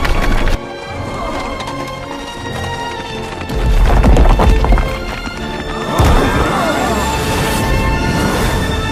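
Horses galloping at speed in a pursuit scene, a dense, loud rush of hooves with crashing and splintering impacts mixed in, continuous across the stretch and building toward the end.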